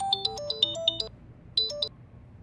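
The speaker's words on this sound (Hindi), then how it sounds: "लगता है किसी का फोन आया है।" A phone ringtone for an incoming call plays a bright electronic melody of quick stepped notes, one phrase of about a second, a short pause, then a second brief phrase starting, clear and alone with no talk.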